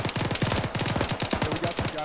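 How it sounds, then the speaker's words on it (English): Bursts of automatic gunfire crackle in Arma 3 multiplayer gameplay, rapid shots close together in quick repeated volleys, with faint voices behind. "I'm gonna need to shoot some more people so I can reload"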